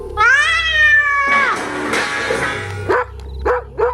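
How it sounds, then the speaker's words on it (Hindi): A cat meows in several drawn-out, wavering cries close by, followed by a couple of shorter meows, all alone without talk, in an old hunting-trophy room of a landowner's house. "वो बिल्ली थी"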